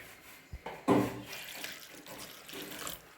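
Water runs and splashes briefly into a container, a short burst of pouring with small clinks and quieter trickling afterward.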